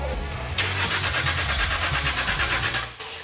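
Rebuilt engine of a Range Rover Sport cranking and catching after a sharp onset, a steady mid-pitched churn lasting about two and a half seconds before cutting off, loud and close with no talk.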